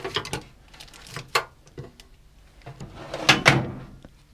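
A workshop drawer full of hand tools is pulled open, several wooden and metallic clunks and slides with a rattle of contents, louder bumps near the end, no talking.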